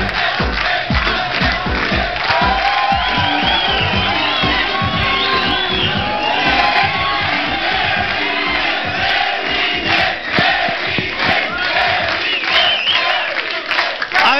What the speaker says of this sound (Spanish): Un aplauso para Carmela